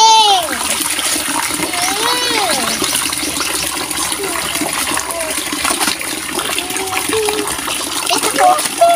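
Clothes are hand-washed in water, with continuous splashing, sloshing and wringing close by, while people talk and a voice rises and falls throughout.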